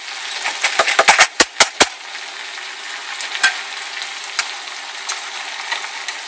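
A pan of paella sizzles and simmers steadily, with a quick burst of sharp clicks and pops near the start and a few scattered ones later.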